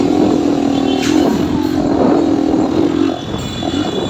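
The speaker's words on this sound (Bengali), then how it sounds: "তো আমরা এখন বাইকটা চালাচ্ছি," A Suzuki Gixxer motorcycle with an engine fault that keeps it from going above 25-30 is ridden, its engine droning steadily and loudly with some rattle before dropping slightly near the end.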